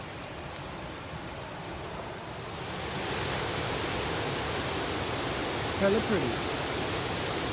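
A small, garden-like waterfall on the Bolaven Plateau in Laos gives a steady, soft rushing hiss that swells slightly partway through, with a person briefly speaking over it.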